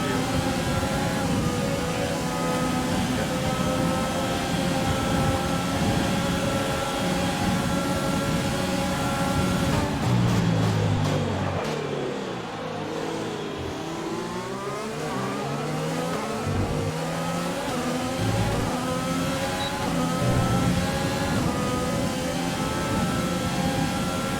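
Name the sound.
Formula 1 race cars at the Bahrain Grand Prix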